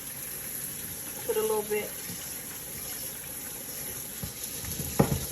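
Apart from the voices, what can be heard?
cold water poured over cooked noodles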